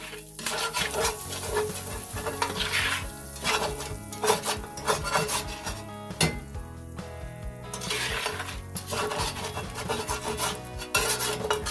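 A utensil scrapes across the bottom of a hot cast iron pan, loosening stuck bits with rough, repeated rasping strokes over a running sizzle, close and fairly loud.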